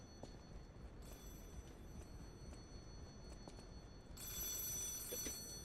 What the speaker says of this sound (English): Oh, phone. Where's the phone?